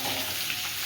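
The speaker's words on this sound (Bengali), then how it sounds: "এর মধ্যে ঝিঙেটা দিয়ে আমি একটু হালকা ভেজে নেব।" Ridge gourd frying lightly in a pan gives a brief, steady sizzle, close and fairly loud, with no voices.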